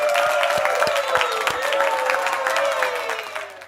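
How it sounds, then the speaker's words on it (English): An awards audience applauds its winners with dense, steady clapping and some crowd noise. A few louder individual claps stand out, and the sound fades slightly toward the end. "let's all of us give all the round of applause to all of our winners today"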